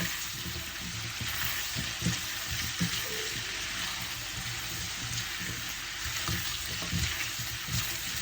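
Beef sautéing in butter in a pan after about ten minutes of cooking, giving a steady close sizzle with occasional stirring clatter and a watery hiss throughout.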